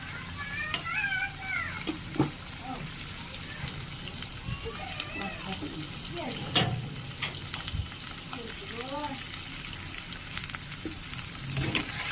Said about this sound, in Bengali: খুব ভালো করে পনিরগুলো লাল লাল করে ভেজে নেব।